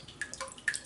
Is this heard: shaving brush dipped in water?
yes